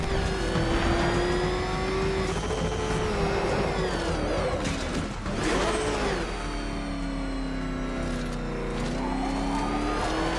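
A car engine in a PS4 video game revs hard and holds a high, droning pitch, dipping briefly midway before climbing again, loud and continuous with no talk.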